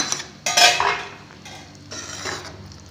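A spoon scrapes and clinks around a cooking pot of green pea nimona curry, two short bursts of metallic stirring close by with quiet pauses between.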